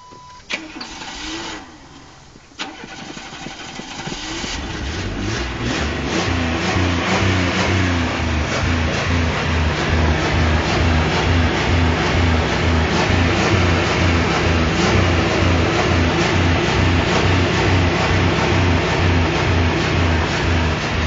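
A car engine cranks and catches after a few seconds, then revs hard in a steady, loud pulsing drone that fills the rest of the stretch, close to the microphone.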